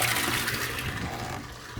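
Water rushes steadily into a barrel being filled for watering a lawn and vineyard, a continuous loud gushing splash close by that lasts throughout with no pauses.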